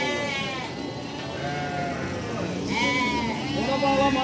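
Lambs at a sheep market in Barda bleat repeatedly and loudly close by, several overlapping cries rising over a busy crowd murmur, with people talking nearby.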